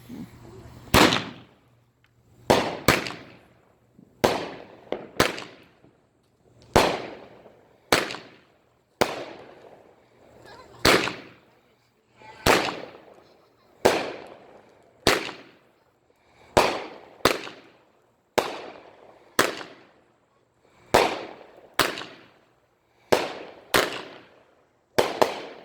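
Fireworks and firecrackers go off at a Fourth of July celebration, sharp loud bangs with crackling tails repeating roughly every second or two in a steady volley, standing out clearly above the background.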